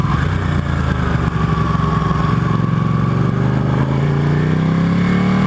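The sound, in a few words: Ducati 899 Panigale motorcycle being ridden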